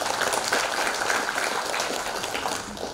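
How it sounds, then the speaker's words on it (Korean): An audience at a Korean literary awards ceremony for new poets, essayists and novelists claps steadily in a dense, even wash of applause, with no pauses or standout shouts. "다시 한번 뜨거운 박수 부탁드립니다."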